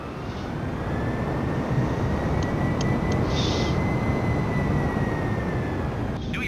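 An airliner engine roars in Microsoft Flight Simulator 2020 as the throttle opens, a loud, broad, sustained rumble with a faint rising whine, steady throughout and without talking.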